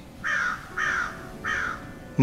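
Three loud, harsh caws from a crow, evenly spaced about half a second apart, close and clear.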